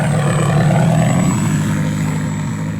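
A steady propeller-engine drone from a Hobby King fixed-wing aircraft sound module imitating a small Cessna 182, a continuous buzzing hum played loud and close with a constant high whine above it and no talk.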